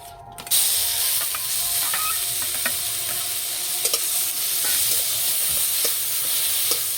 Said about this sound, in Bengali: গাজরটা কিছুক্ষণ এইভাবে ভেজে নেব যাতে গাজরের কাঁচা গন্ধটা চলে যায়